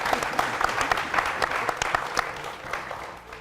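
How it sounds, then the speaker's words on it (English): Applause from a studio audience on the set of a Democracy Day special journalists' talk show, a steady burst of clapping with scattered sharper claps, moderately loud and fading slightly at the end. "A round of applause for me."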